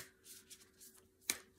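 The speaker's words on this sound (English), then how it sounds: "Just shuffling." Oracle cards shuffled by hand, soft papery riffles and slides ending in one sharp snap of a card, quiet and close, with no talking.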